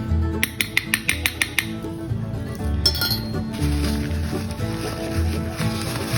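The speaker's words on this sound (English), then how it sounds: "take your measuring spoon. It's 1 teaspoon for a quart. 1 teaspoon of salt per quart. You just stick it in there like that" A metal measuring spoon clinks sharply against a glass canning jar while salt goes in for canned tomatoes, a quick run of about seven bright taps followed by scraping and handling noises close up.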